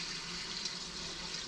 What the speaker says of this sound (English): Just gonna rinse out that can a bit.